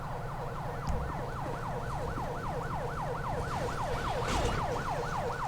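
Ambulance siren from the FiveM police game, a steady wailing sweep rising and falling about every third of a second, continuous and loud over a low engine rumble, with no talking.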